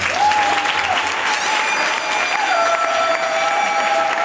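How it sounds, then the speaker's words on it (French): A theatre audience applauds at a festival stage play, with dense, loud clapping throughout and a few whistles and cheers rising above it. "Acclamez pour lui."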